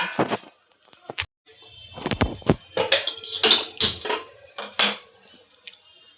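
Peanuts being dry roasted in a pan, giving a run of sharp clinking and scraping knocks, irregular and fairly close, with no talk.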